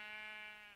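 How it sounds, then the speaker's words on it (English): A Minecraft sheep gives a single short bleat, faint and alone, with a nasal wavering tone that fades out. "Oh, there is a sheep down here."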